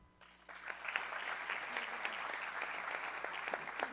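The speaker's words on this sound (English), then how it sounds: "Why we are clapping for them" An audience at a conference day in Rio applauding two honoured women, the clapping swelling in quickly after a quiet moment and holding as a steady, fairly close roar of many hands.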